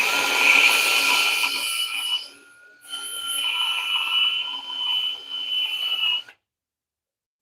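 Wood being sanded during mallet shaping on a sharpening morning in a workshop: a continuous abrasive rasp with a short dip midway, then a steady stretch before stopping abruptly into quiet.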